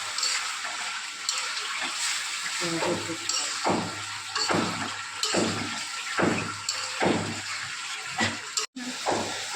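Taro pieces frying with spices in oil for a taro and hilsa curry, a steady close sizzle with repeated scraping stirs roughly every half second to second, no voices.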